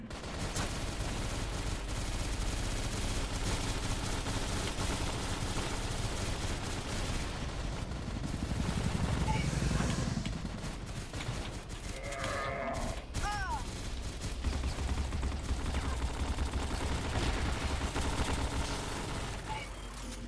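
Gunfire in the shooter game CrossFire, dense bursts of rapid shots rattling almost without pause, loud and busy, with a few bleating game effects mixed in partway through.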